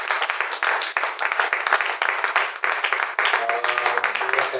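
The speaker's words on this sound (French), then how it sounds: "Est-ce qu'on peut applaudir pour le roi des rois?" A church congregation at a Sunday service applauds, dense steady clapping filling the room for several seconds, with a few sustained voices or instrument tones rising near the end.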